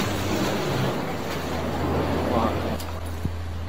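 Rough sea waves crash against a small fishing boat, a loud, continuous roar of surf and wind buffeting the microphone, with a deep hum underneath.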